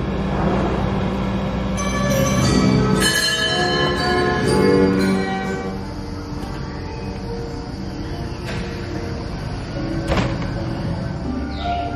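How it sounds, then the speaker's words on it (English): A bell rings on the Grand Carousel at a zoo amusement ride, sounding over a busy mix of tonal ride music and mechanical noise, with sharp metallic strikes standing out at moments. "hear the sound of the bell"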